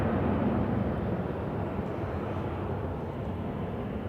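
A heavily loaded airliner takes off at Manchester Airport, a dense, sustained roar that eases only slightly over a few seconds.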